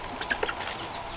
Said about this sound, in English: I wanted to show you the chickens coming out this morning